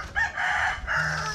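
A rooster crows in two drawn-out calls with a short break between them, moderately close, over a low background hum.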